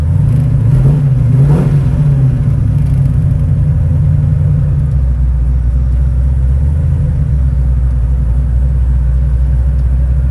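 A 1970 Ford Mustang Mach-1 rumbles with a deep, loud engine note, revving up near the start and then settling into a steady low idle-like drone close by.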